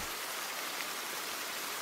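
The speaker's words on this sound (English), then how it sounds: "It's raining heavenly." Steady heavy rain falling in the countryside setting of the video game The Bathhouse, a dense continuous hiss of downpour with no breaks and no voices.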